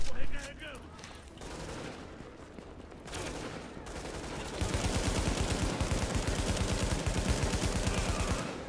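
Rapid bursts of gunfire in the Dark Zone of the video game The Division crackle, starting faint and growing into sustained heavy fire, with game sounds in the background.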